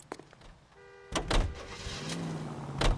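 A car door thuds shut in the 1940s Los Angeles of the L.A. Noire detective game, followed by the car's engine starting and revving as it pulls away, fairly close and clear.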